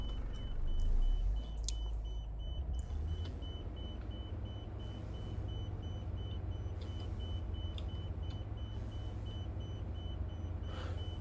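A simulated bus in the OMSI 2 driving game, on a Czech Republic route around Dolni Kounice, reverses with a low, steady engine rumble under a continuous, evenly paced electronic reversing beep.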